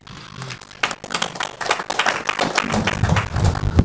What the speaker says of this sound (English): Please just hold your applause